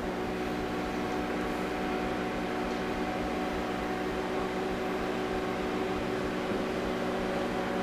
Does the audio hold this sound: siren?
no